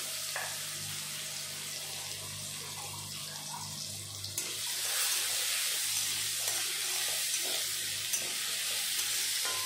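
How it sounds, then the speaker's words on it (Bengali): Tamarind coated with turmeric and salt frying in hot oil in a kadai, a soft continuous sizzle with faint stirring, no voices. "এই তেলে হলুদ নুন মেখে তেঁতুলটা ভেজে নেব"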